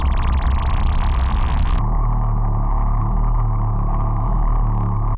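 A STL Tones ControlHub tracer test tone playing alone: a loud, steady, buzzy noise-like tone that drops its bright hiss partway through and continues as a dense, harsh drone, with no speech.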